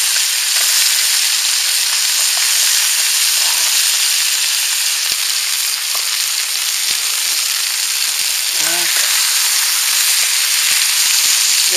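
Fish fries in a pan over a campfire, a loud continuous sizzle and hiss close at hand with occasional small pops and crackles.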